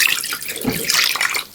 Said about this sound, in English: I'm supposed to be adding some water. So I have some water here.